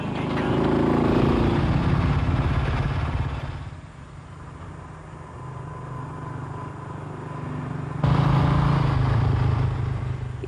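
A Royal Enfield motorcycle engine: a moderately loud, steady mid-pitched engine drone. It falls quieter in the middle of the clip and then swells back up, with no talk over it.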